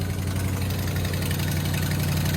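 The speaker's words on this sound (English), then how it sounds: "Hear those exhaust manifolds?" A Dodge third-generation pickup truck idles with leaking exhaust manifolds, a steady low engine rumble with a fast metallic ticking running through it, close and continuous with no talk.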